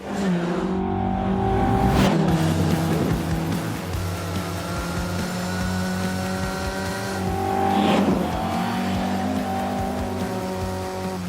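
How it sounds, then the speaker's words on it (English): A Mark 1 Lotus Cortina laps the Cadwell Park race circuit on a sunny day, its engine loud and close with a steady droning note and two rising surges of revs as it accelerates. "Cadwell Park, sunny day, Mark 1 Lotus Cortina. This thing is a riot."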